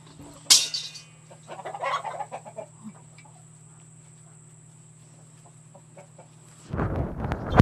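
Backyard chickens cluck softly in scattered bursts near a steady background hum, then a louder flurry of sound rises at the end.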